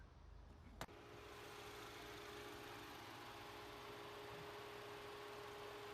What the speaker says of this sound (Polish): Nawet teraz słychać jak tam silnik pracuje